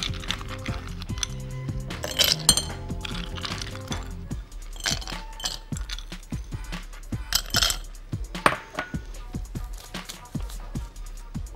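Ice cubes dropping into drinking glasses for dalgona cocoa give a scattered series of sharp close clinks and clatters, some in quick clusters, over a quiet room.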